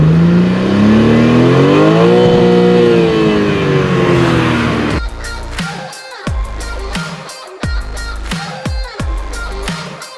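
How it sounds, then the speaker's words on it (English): A 2023 BMW M2 with its M-specific exhaust under hard throttle, the engine note climbing in pitch for about five seconds before pounding music with heavy bass beats takes over. "The M-specific system is music to the ears once the throttle is pressed hard."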